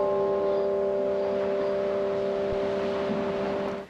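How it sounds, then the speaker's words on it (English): A church bell in Orlando tolls with a long sustained ringing hum, steady and fairly loud, its tone slowly decaying over a soft background before fading at the end. "The bell at this Orlando church tolled 49 times"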